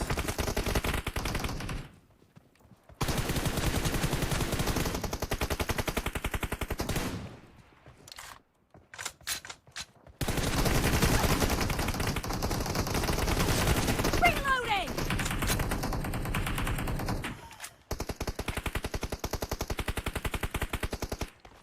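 Bursts of automatic and rapid gunfire in PUBG, a battle-royale shooter, sound at a distance in repeated volleys separated by short quiet gaps.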